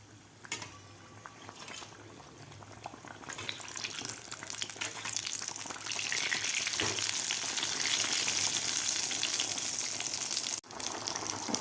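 Batata vada fry in hot oil with a steady bubbling sizzle that builds louder over the clip, close and continuous with no talking.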